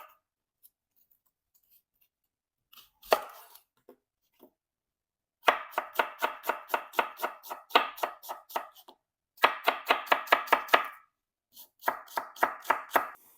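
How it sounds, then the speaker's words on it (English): A knife thinly slices an onion on a board, producing rapid rhythmic chopping taps in three quick bursts with short pauses between, close and crisp, preceded by a few scattered knocks. "So I'm thinly slicing the onion."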